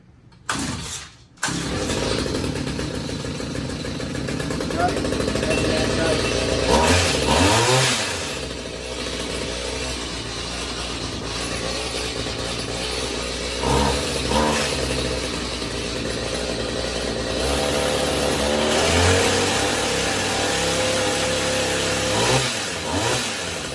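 A Stihl HS45 two-stroke hedge trimmer salvaged from hard rubbish starts up after a brief knock and runs continuously, its buzzy engine idling and revving up and down in several surges, close and loud, with no talking.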